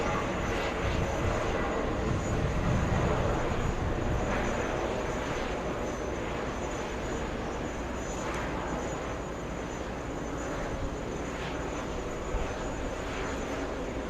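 An Emirates airliner departs at JFK airport, its engines making a loud, continuous rumbling roar that stays steady and fills the whole stretch, with no talking over it.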